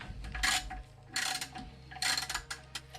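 A worn differential bushing is pressed out of a BMW F10, giving a run of sharp metallic clicks and ratcheting bursts in short, uneven groups over a low background hum, heard close with no talking.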